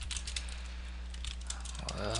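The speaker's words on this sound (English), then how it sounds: "we're going to go ahead and start typing out 5 variables, each storing a different number in our list" Rapid, irregular clicks from typing on a computer keyboard while writing code, close and fairly steady over a faint low hum for the whole stretch.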